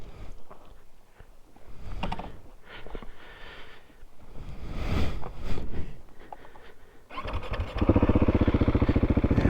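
A KTM 690 SMC-R motorcycle ridden on back roads gives a rumbling engine note that rises and falls with throttle and shifts, ending in a loud, steady pulsing drone, close up with wind noise.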